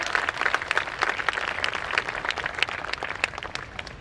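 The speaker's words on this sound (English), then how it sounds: "So can we clap a little louder for them?" Audience applauding at a school event for pre-primary children, a steady crowd of many hands clapping close by for several seconds with no talk.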